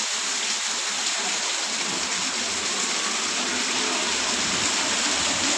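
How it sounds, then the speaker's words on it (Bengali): Rain falling outdoors, a dense steady wash of drops with a constant hiss, fairly loud and close, with no voices. "কিন্তু বৃষ্টি হয়ে যাচ্ছে"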